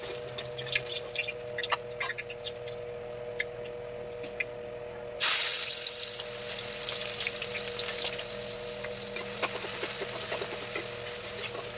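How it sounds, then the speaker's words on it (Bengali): Sliced onions frying in oil for biryani berista, in the same oil used to fry eggs: light dripping crackles, then a sudden loud burst of sizzle midway that settles into a steady hiss with scattered pops over a low hum. "সেই তেলের মধ্যে অল্প পেঁয়াজ ভাজা করে বেরেস্তা বানিয়ে নিলাম"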